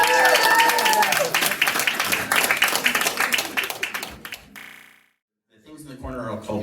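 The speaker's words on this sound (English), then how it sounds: "Once again, cheer for Bunny." An audience at a strongman and sideshow act at Pexcho's American Dime Museum in Baltimore claps and cheers loudly for about four seconds. The sound then drops to near silence, and talk and movement follow.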